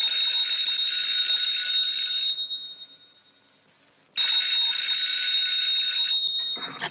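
An old-fashioned telephone rings at night in two long, loud electric bursts split by a short pause, a steady metallic trill with no voices over it.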